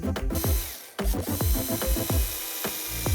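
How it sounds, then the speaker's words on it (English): A Bosch power drill whirs and bites into wood close by, drilling holes in a series of short bursts with brief pauses and a steady mechanical hum. "Let's drill some holes."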